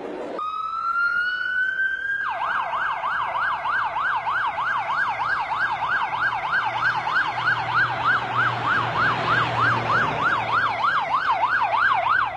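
An ambulance siren wails loud and close, starting with a rising tone, then switching to a fast, steady up-and-down warble that runs unbroken to the end over low road rumble.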